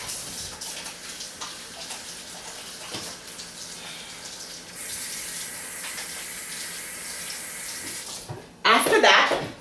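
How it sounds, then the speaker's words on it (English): Water runs from a kitchen tap as hands are washed after handling raw meat, a steady broadband rush throughout that swells into a louder, closer gush near the end. "give me a second to wash my hands since I've been handling raw meat"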